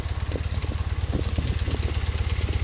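A 1971 BMW R50/5 motorcycle engine idles steadily close by, a low, even, rapid pulsing throb with no talk over it.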